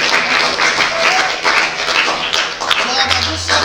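Applause in a classroom after a group presentation, a dense wash of clapping from many hands that stays steady throughout, with voices murmuring underneath.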